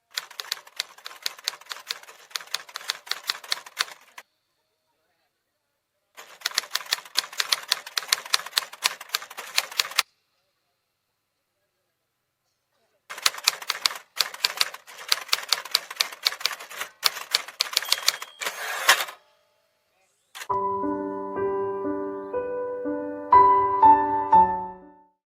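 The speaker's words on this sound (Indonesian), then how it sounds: "Bung Karno memerintahkan Sayuti Melik untuk mengetik teks proklamasi tersebut" A manual typewriter types out a proclamation text in a staged historical drama, with rapid bursts of key strikes broken by pauses, then a plain melodic tune at the end.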